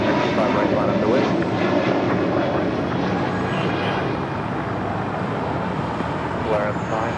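Jet airliner taking off from runway 25 right at LAX, a loud, steady broadband engine roar holding across the whole stretch, with radio tower chatter and voices running under it.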